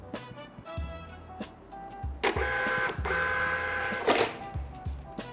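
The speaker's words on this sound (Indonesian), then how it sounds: "Kita tes print dengan cara tekan tombol fit dan nyalakan printernya." A thermal receipt printer, a cashier model, runs a test print: rapid mechanical ticking and buzzing feed bursts, with a louder sustained whir midway and a final sharp burst, close and without speech.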